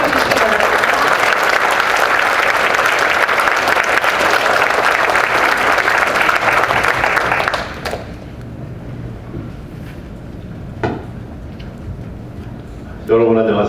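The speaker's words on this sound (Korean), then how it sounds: "앞으로 나오실 때 큰 박수로 환영해 주시기 바랍니다." A conference hall audience at a Korean-language teachers' academic meeting claps loudly and steadily to welcome a speaker, then the applause stops abruptly into quiet room noise with a few faint thumps.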